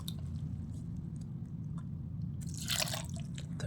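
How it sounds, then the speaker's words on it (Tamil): Water is poured into a mixer grinder jar holding mint and prawn gravy paste ingredients, a steady low rush with a brief bright splashing burst near the end, close and moderately loud with no talk. "தண்ணி ஊற்றியாச்சு, ரொம்ப வேண்டாம்."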